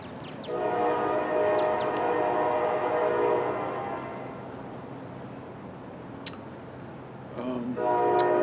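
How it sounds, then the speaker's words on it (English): A Kansas City Southern freight train rumbles past at a distance in Louisiana, with a sustained droning horn blast that fades and returns, steady and fairly loud with no talk. "That's the Kansas City Southern. Just chugging along"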